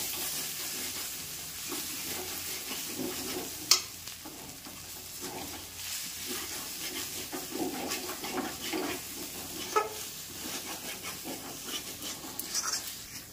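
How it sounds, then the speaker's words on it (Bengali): Masala with Kashmiri chilli being stirred in a kadai for kadai chicken, a steady low sizzle with scraping spoon strokes and a few sharp clanks against the pan. "দিয়ে এবার ভালো করে মশলাটা আমি মিশিয়ে নেব।"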